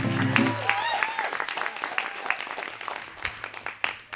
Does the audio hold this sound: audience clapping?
yes